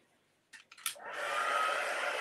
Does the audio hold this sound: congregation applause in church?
no